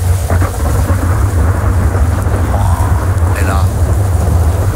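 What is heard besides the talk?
thunderstorm with thunder and rain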